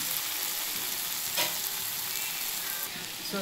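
Long brinjal (podugu vankaya) fry sizzling steadily in a pan while being stirred, with a clear scrape of the spatula partway through, close and continuous with no talking.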